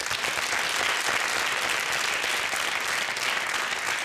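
Audience applauding a singer at a concert, dense continuous clapping that stays loud and even for the whole span with no voices over it.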